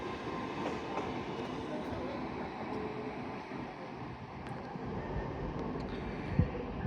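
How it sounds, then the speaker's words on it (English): An LNER Class 801 train, 801-225, runs a London King's Cross to Edinburgh Waverley service past York on the East Coast Main Line, a faint continuous rumble of rolling wheels with a few light clicks. "801-225, working service from London King's Cross to Edinburgh Waverley with LNER having some fun."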